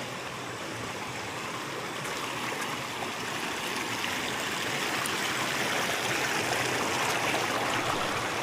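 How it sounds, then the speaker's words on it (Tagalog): A river flows steadily while people travel along its bed, giving a constant close rush of water with no pauses, dense and loud throughout. "Binabaybay po natin ngayon ang ilog mismo."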